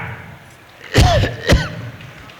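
Two sharp, close coughs in quick succession, harsh and forceful, with quiet background between them.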